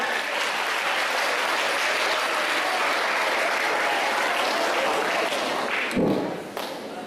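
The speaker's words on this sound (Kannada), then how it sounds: "ಇವರನ್ನು ಜೋರಾದ ಚಪ್ಪಾಳೆಯೊಂದಿಗೆ ಸ್ವಾಗತಿಸೋಣ" Steady, loud applause from a school audience at a Kannada Rajyotsava stage event welcoming a performer, a dense continuous clatter of many hands that holds for several seconds before a couple of thuds as it tapers off.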